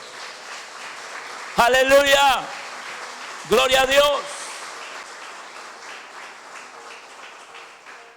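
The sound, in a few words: congregation applauding for the Lord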